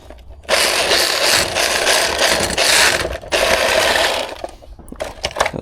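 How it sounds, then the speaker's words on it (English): Drilling through a house wall to run an earth electrode cable: a loud, steady grinding drone that runs in long stretches with brief pauses, then tapers into scattered knocks and rattles at the end. "All right, let's get drilling."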